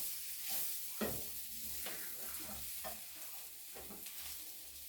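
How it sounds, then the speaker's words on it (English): A silicone spatula stirs cooked Lyonnaise potatoes in a pan, giving faint soft scraping strokes about once a second over a quiet sizzle, close up with no talking. "So you just have to mix this up in a way that I'm using this plastic spatula or silicone spatula, so that it doesn't break down the potatoes"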